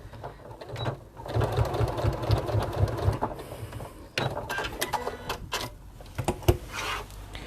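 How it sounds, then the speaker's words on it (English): A sewing machine runs in a rapid mechanical burst while reverse stitching the end of a fabric bag, then pauses and restarts in shorter bursts, close up with faint background sound. "And making sure you reverse stitch at the end of the bag."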